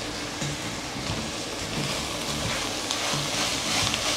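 A pan of vegan corn and tortilla soup being stirred, with a steady low sizzle and scraping stir sounds running continuously at moderate level throughout.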